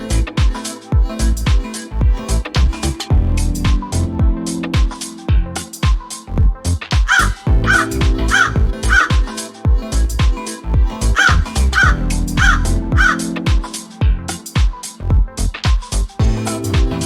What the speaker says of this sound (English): Crows live in trees, cities, and villages.